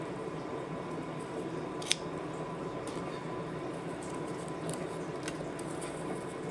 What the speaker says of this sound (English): let me just cut my piece of ribbon here